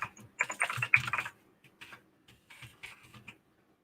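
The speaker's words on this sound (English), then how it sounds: "Pardon my 80s loud keyboard." A loud 1980s computer keyboard clacks in quick bursts of typing, close and crisp, with a dense flurry of keystrokes followed by sparser, scattered presses.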